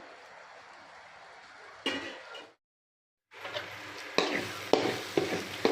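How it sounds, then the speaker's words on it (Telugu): Tomatoes frying in oil for a village-style Godavari fish curry gravy give a steady close sizzle with stirring scrapes, broken by a short silent gap before the frying resumes louder with sharp utensil clinks. "ఈ టమాటా కూడా ఈ ఆయిల్లో బాగా వేగాలండి, బాగా మగ్గిపోవాలి"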